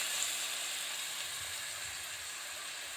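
Chopped onions hitting hot oil with fenugreek seeds for a fish curry give off a steady, close, even sizzling hiss that holds its level throughout, with no one speaking.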